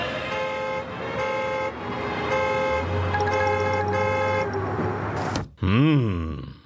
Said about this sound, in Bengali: আরে দাদা এরকম জোরে হর্ন বাজাচ্ছেন কেন?